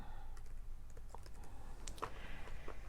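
A computer keyboard being typed on, a quiet run of light, scattered key clicks over a low steady background hum.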